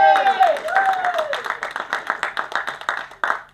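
Audience at a Tamil stage event claps steadily, a dense run of hand claps that builds after an opening stretch of voices and then continues alone through the rest.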